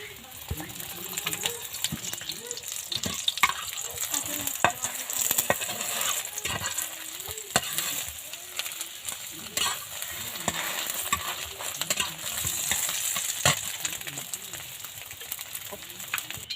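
Eggs frying in oil in a pan for a Bengali egg bhuna, a continuous soft sizzle under frequent scraping and tapping of a spatula against the metal pan, close by and steady for over sixteen seconds with no talking.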